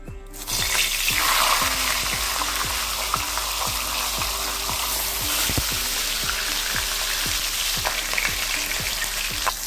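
Katla fish head fries in hot mustard oil in a kadai, a loud, dense crackling sizzle that starts suddenly and keeps spitting steadily with popping bursts throughout, nobody talking.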